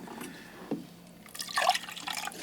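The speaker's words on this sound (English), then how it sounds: "empty my water container one more time" Water used for watercolor painting is poured out of a container, a short splashing trickle with drips that follows a light tap and gets louder toward the end.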